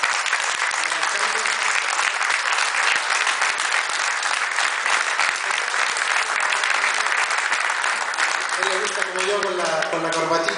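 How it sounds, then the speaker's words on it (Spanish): Sustained applause from an audience welcoming mayors at a gathering in Caldera, loud and steady for about ten seconds, with a voice speaking over the clapping near the end. "damos un fuerte aplauso a los alcaldes"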